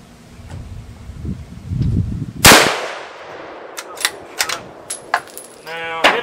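A 6.5 Creedmoor rifle fires a single loud, sharp shot at a backpack outdoors, with a ringing decay. A few small metallic clinks follow, and a short rattling sound comes at the end.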